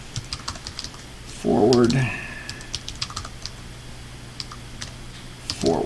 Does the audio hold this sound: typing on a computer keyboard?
yes